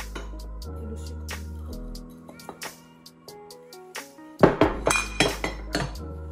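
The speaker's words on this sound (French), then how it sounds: "Là, je vais mélanger le tout." Flour, almond powder, salt and sugar being mixed in a bowl, heard as a run of sharp clinks and taps of a utensil against the bowl, loudest toward the end, with soft tonal background sounds earlier on.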